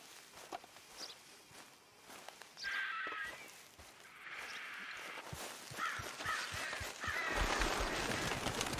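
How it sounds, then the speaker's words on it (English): Crows cawing in Red Dead Redemption 2 gameplay, a few harsh caws scattered over an outdoor scene with footsteps and insect buzz, fairly distant and soft, with faint movement noise throughout. "Over there, where the birds are."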